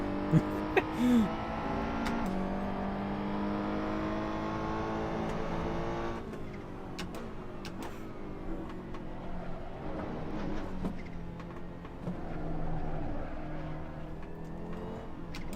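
Race car engine in the Assetto Corsa racing game, revving and shifting through gears with rising and falling tones. It plays at moderate level, steady under quiet background sound.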